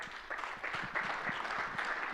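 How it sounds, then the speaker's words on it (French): Faint conference audience applause at an African digital innovation event, a soft patter of clapping from a distant crowd lasting about two seconds. "Merci Aphrodite, on peut l'applaudir"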